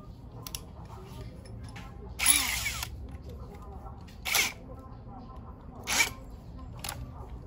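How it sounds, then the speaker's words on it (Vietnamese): A Makita 13mm three-function hammer drill bores into solid brick in short bursts, three loud whining runs spaced a couple of seconds apart over a quiet background. "em sẽ test thử chức năng khoan tường, khoan bê tông với cái viên gạch đặc với con Makita 13 ly"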